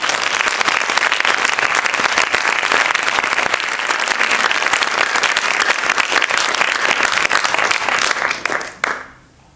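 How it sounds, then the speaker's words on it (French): An audience at a TED-style talk event bursts into sustained, vigorous applause that stays dense and loud for about nine seconds, then drops off abruptly. "Je propose qu'on l'applaudisse."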